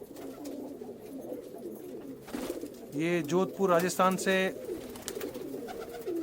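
Pigeons at a music teacher's home in Jodhpur, Rajasthan, cooing in a low continuous murmur under a voice speaking over them.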